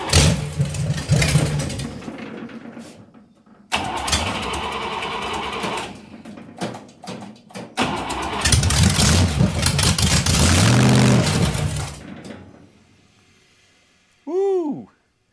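A vintage dragster with an old Buick Nailhead engine runs loud and rough, revving in bursts with brief drops between, then falls quiet before a short rising whoop near the end.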